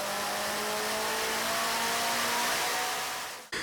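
A turbocharged car engine revs hard on a DRC mainline chassis dyno, with boost at 20 psi and stock ignition timing, a loud sustained high-rpm roar with rising tones that cuts off abruptly near the end.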